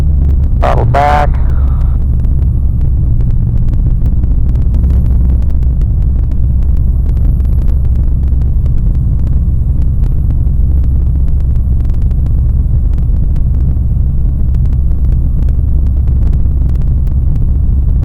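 Zodiac 601 light aircraft engine running steadily at reduced throttle in flight, a loud continuous low cabin drone with no change in pitch, and a brief voice at the start.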